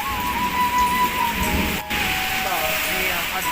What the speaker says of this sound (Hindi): एकदम तबाही वाला बारिश।